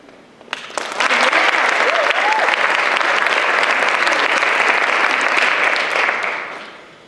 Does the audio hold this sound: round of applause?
yes